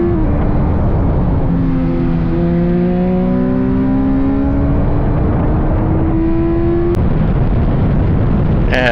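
In-car race engine during a Libre track race, loud and steady throughout. The revs climb steadily through a gear, drop briefly at a shift, then settle as the car brakes into a corner.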